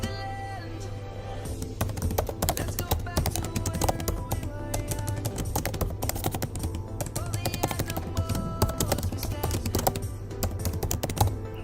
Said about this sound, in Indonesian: Ketik judul di sini.